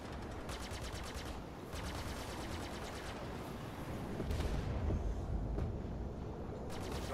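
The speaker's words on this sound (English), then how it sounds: "Starboard shield under fire." Weapons fire pelts a ship's starboard shield in a space video game, with rapid rattling bursts over a steady loud rumble, the impacts repeating in quick machine-gun-like runs.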